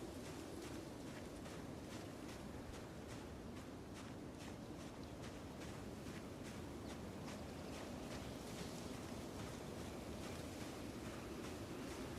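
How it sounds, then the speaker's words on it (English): Steady wind gusting through trees in the survival game Project Zomboid, a continuous airy rush with rhythmic surges that fills the whole stretch with no talk. "Those trees just wiggled. It is windy."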